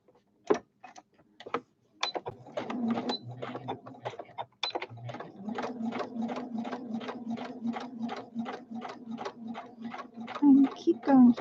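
A sewing machine straight stitching a quarter-inch folded fabric hem, running in short bursts of rapid, even ticking stitches at close range, with pauses between runs.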